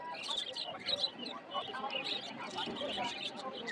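Pet budgerigars and cockatiels at a busy Khulna pet market give rapid high chirps and tweets, fairly faint, mixed with the murmur of people talking nearby.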